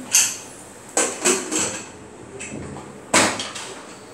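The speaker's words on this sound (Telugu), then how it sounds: "కలిపెట్టి కుక్కర్ మూత పెట్టేసేయండి." A pressure cooker lid being set on and closed over ladies finger tomato curry, a few sharp metallic knocks and clunks spaced irregularly, close and fairly loud, with no talking.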